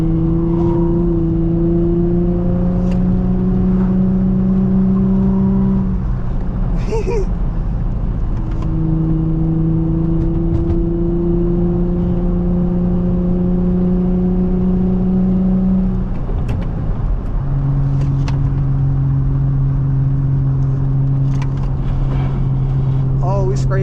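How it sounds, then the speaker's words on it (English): Infiniti G35 with a VQ engine that burns oil, running loud and close: sustained engine drone with steady harmonics that step down in pitch at each gear change or rev drop, a couple of sharp knocks and scrapes in between. "I'm gonna put some other clips of this car just being messed up and making noises and stuff like that"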